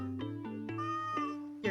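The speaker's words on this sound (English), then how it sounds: "it's just Bella meowing at something outside." Bella, a pet cat, meows repeatedly indoors, a string of short, close, fairly quiet cries in quick succession.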